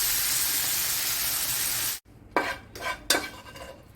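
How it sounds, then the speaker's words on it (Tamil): Cluster beans with grated coconut, salt, garlic and dried chillies being sautéed in a pan, with a steady sizzle that cuts off, followed by a few distinct scraping stirs of a spoon against the pan. "இப்போ உப்பு போட்டிருக்கோம், தேங்காய் பூ போட்டிருக்கோம், நல்லா வதக்கி எடுப்போம் இன்னொரு 5 நிமிஷத்துக்கு."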